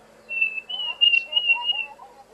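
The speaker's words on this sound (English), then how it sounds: "lovely summer sounds there with the Diederik's cuckoo" Diederik's cuckoo calling around a lodge on a summer day, a run of high, clear whistled notes rising and falling in a steady phrase, moderately close, with faint low voices underneath.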